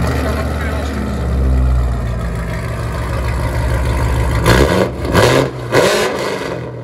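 A Chevy Corvette Stingray 6.2L V8 running straight pipes with an aftermarket X-pipe and quad 4-inch tips idles with a deep, loud rumble, then blips the throttle in three sharp revs near the end.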